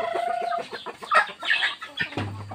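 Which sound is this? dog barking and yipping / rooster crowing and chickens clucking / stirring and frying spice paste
rooster crowing and chickens clucking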